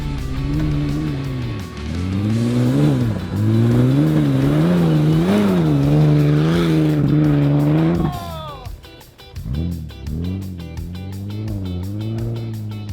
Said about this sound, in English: I'm gonna see what he does with this supercharged Land Cruiser up this shaly hill.